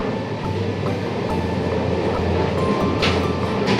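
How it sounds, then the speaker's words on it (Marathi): Continuous rumble and rattle of a moving train heard from inside, steady and fairly loud, with faint rhythmic clacks of the wheels. "ट्रेन पूर्ण हालत आहे"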